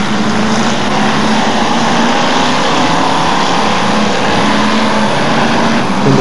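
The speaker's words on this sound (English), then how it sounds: "Number 5, Trevor Bedford, wobbling around the new bend with a flat tyre." Stock cars racing around a tarmac bend at a Hotstox meeting in Buxton, a loud constant engine drone close by that holds steady throughout with no break.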